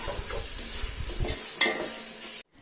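Tomatoes frying in a pan for chicken biryani, a steady close sizzle with a spoon stirring and scraping through it before the sound briefly cuts out at the end.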